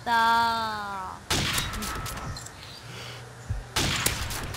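Gunfire in a Call of Duty zombies game: bursts of rapid shots break out twice, loud and close, between stretches of quieter game sound. A harmonic tone opens the passage.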